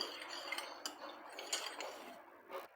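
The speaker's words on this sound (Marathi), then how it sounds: "तर डाळ घालायची आधी बघा थोडीशी अशी आपण चमच्याने तिला अशी मिक्स करून घेऊ" A metal spoon works dal in a pan, mixing and mashing it with scattered clinks and scrapes of varying strength, close and quiet, with no voices.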